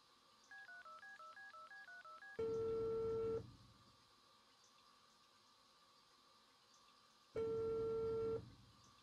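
A phone in the video game Unheard dials a call: a quick run of keypad tones, then two long, steady ringback tones separated by a pause, clean and close with no one talking.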